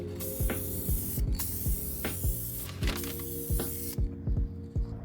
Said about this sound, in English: Then I sprayed 3 coats of color,